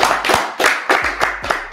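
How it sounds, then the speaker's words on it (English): Audience clapping at a motivational talk, heard as a short run of slow, evenly spaced, loud hand claps, about five in under two seconds, with no talk over them. "Can we clap it up for her?"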